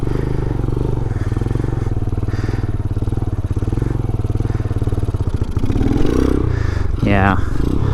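A Grom-clone Vader 125cc motorcycle doing circle wheelies gives a steady buzzing engine drone that swells and revs up toward the end, with wind noise and a rider talking over it.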